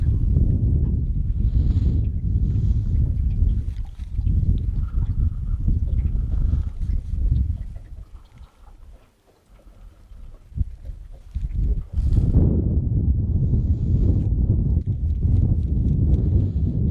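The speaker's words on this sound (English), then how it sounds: "When that wind picks up, I'm dropping my rod tip so it won't catch quite as much wind." Steady wind roars and buffets around an angler fishing outdoors, a loud continuous rush that briefly eases midway before gusting back up.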